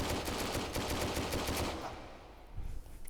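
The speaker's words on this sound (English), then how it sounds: "we can now also fire this without a suppressor" Unsuppressed gunfire from a firearm in a VR shooting game: a fast, loud burst of repeated shots at close range that fades out, followed by a couple of softer thumps.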